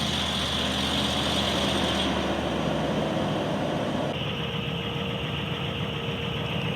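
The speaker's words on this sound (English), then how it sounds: "we're going to actually run it now and we're going to check for leaks" A 2004 Ford Explorer engine idles steadily after an oil change, a continuous mid-pitched hum with faint whine that shifts slightly partway through, no voices.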